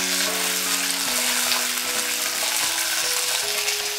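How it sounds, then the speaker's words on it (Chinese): Broad beans frying in hot oil in a wok, with a steady close sizzle and crackle throughout and some tonal background music laid over it. "锅内倒油，等油热的时候下入蚕豆"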